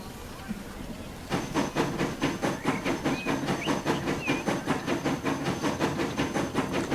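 A train in the Transport Fever 2 simulation game rolls along a line. After a brief quiet start, a steady, rhythmic clickety-clack of wheels over rail joints sets in, with a faint hiss and the occasional thin squeal.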